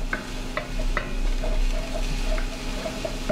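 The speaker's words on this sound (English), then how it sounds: "just let those sauces simmer down" A crème fraîche, caper, dill and white wine sauce simmers in a pan, a close steady bubbling hiss broken by repeated light clinks and scrapes of a utensil stirring, with no speech.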